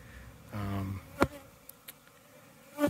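Honey bees buzzing around hives, a close bee drones past briefly with a tonal hum, followed by a few sharp clicks and knocks against a quiet background.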